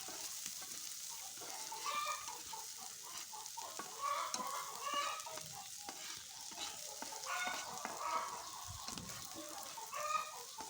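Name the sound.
frying onion, ginger and garlic in a wok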